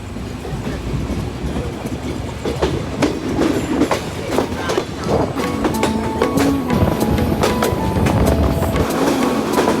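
Inside a moving passenger train in Bangladesh, a loud continuous rumble with rhythmic clickety-clack of wheels over rail joints and occasional metallic squeals, close and steady with no talking.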